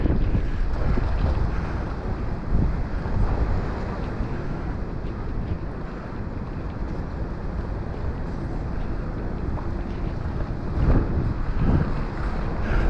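Continuous heavy wash of choppy harbour water and gusting gale wind on the Paphos seafront, a dense rumbling roar with no voices, steady throughout.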